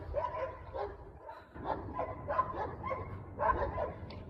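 Several dogs bark in repeated bursts at moderate distance, the barks overlapping with a steady low background rumble.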